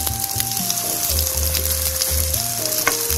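Noodle kebabs sizzle steadily in hot oil, a constant crackling fry with a faint tonal whine running above it and no voices.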